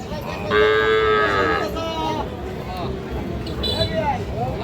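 Young cattle and heifer calves at a livestock market, one loud drawn-out moo close by followed by shorter calls, over background crowd chatter and voices.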